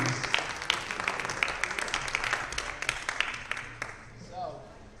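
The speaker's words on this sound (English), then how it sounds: "round of applause for Coco," Moderate applause from spectators at a squash coaching event in a stadium, scattered claps rising and then thinning toward the end, with a voice talking over them.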